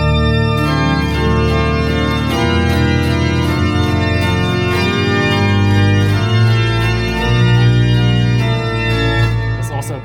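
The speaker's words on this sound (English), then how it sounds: "if you pull out all the mixture stops, it sounds like this" A church organ at Chiesa S. Michele Arcangelo plays with all mixture stops drawn, a loud, bright, dense sustained sound with shifting chords and a deep bass, ringing continuously for about ten seconds.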